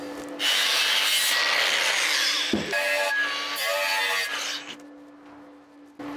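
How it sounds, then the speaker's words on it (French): Metal workpiece being sanded by hand before TIG welding, heard as loud, close, continuous abrasive rubbing with a brief knock partway through, then tapering off near the end. "je vais carrément poncer cette pièce et la nettoyer à l'acétone"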